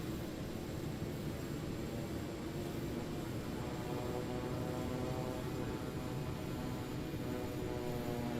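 A propeller aircraft in Microsoft Flight Simulator 2020 takes off without flaps, a steady loud engine drone and broadband rush holding constant throughout with no voices.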